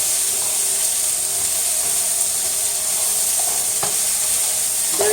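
Zucchini and gnocchi sizzle steadily in a hot pan on high heat, with occasional scrapes and stirs of a utensil against the pan over a constant hiss.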